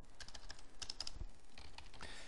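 Fingers tap out a quick burst of keystrokes on a computer keyboard, close and fairly quiet, with soft irregular clicks running for about two seconds.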